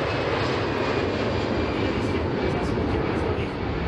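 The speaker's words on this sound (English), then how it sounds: "Krásny vzlet." An Airbus airliner on its takeoff roll gives a continuous loud, broad engine roar and rumble that holds steady throughout, heavy in the low end and sounding close.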